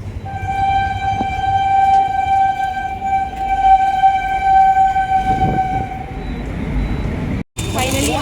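A mail train rumbles past close by, its long steady horn blaring for several seconds before cutting off, with voices under the noise.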